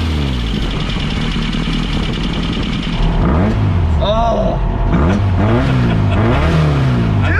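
A VW Baja Bug engine revs loudly, holding a steady drone before climbing through several sharp rising and falling revs, with a brief voice in the middle.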